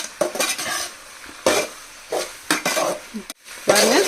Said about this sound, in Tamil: இப்போ பாருங்கள், நல்லா மிக்ஸ் பண்ணிக்கலாம்